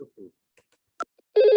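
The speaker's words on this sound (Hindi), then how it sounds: "हमारा ये रिंग करने लगा और रिंग दिखाई देगा आपको।" After a couple of soft blips and a click, an IP phone starts ringing with a loud, sustained electronic ring at the very end.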